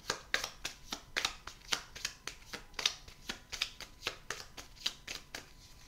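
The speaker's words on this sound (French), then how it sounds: "Je vais prendre la carte accessoire, tiens." Tarot cards being handled and shuffled to draw a card, a quick run of crisp, close papery flicks and snaps in an irregular rhythm, with no talk over them.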